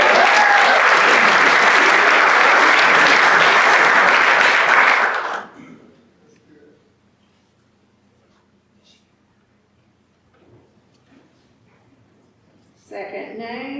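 A Rotary meeting audience breaks into loud, dense applause that lasts about five seconds and then stops abruptly. A quiet room with faint rustling follows before talking resumes at the end.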